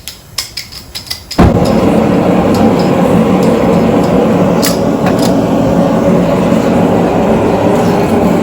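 A blacksmith's forge roars to life after a few sharp taps, then a loud, steady blower-driven rush of air and fire continues close by, with faint metallic clinks over the top.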